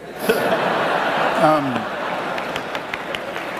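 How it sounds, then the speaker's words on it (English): A debate audience applauds and laughs, clapping mixed with chuckles and voices of a talking crowd, fairly close and loud at first, then thinning out. "Then hold your applause, for heaven's sake."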